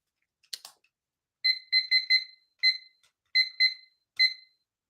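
A clock being set up during a live tarot reading stream gives a few faint clicks, then a series of short, bright electronic double-tone beeps in uneven clusters, close and clear against silence.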